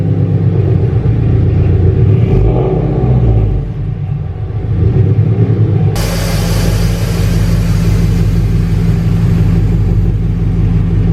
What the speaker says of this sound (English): right now I'm just gonna pull the RX-8 into the cul-de-sac and bring the BRZ right here.